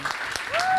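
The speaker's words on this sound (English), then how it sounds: "So big applause for that." Applause from the audience at a New Year's community event, a brief broadband wash of clapping that swells louder toward the end, with a faint tonal whistle over it.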